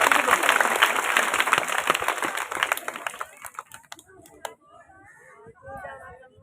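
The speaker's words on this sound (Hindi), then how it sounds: "इसके लिए तालियां बजाएं।" Magic show audience clapping fills the first three seconds, dense and fairly loud, then breaks off into a quieter stretch of scattered sounds and speech.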